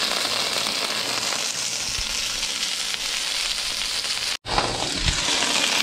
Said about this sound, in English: we're gonna just fry it